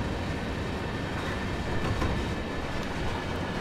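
A train running in Train Sim World 3, a steady, close rumble of wheels and rolling stock with faint rail clatter, unbroken and with no talking.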